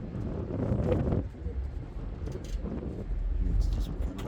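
Steady low wind rumble buffets the microphone on the Parramatta River at Rydalmere, with a voice talking over it and gusts swelling now and then.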